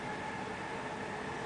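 Steady rumbling roar of a train passing, continuous and even throughout with no breaks, heard at moderate distance outdoors without talk.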